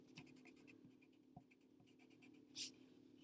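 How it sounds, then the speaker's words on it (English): A pencil lightly draws a symbol on paper, faint close scratching strokes in short bursts, with one brief louder scrape near the end. "I'm going to go ahead and draw the symbol nice and lightly on there"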